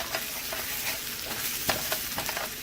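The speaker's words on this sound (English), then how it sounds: "So I'm going to stir that in and let it cook for about a minute." Spiced potatoes frying in oil as lemon juice is stirred in, a close continuous sizzle with repeated scraping strokes of a spoon against the pan at an uneven rhythm.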